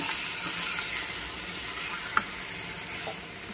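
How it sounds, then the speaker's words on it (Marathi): Bitter gourd (karela) stirred and fried in a pan, a steady broad sizzle throughout with one sharp clink of a spoon against the pan partway and faint stirring scrapes, close and without talk. "कारले टाकलेले आहेत आपण, कारल्याला हलवून घ्यायचं पूर्ण"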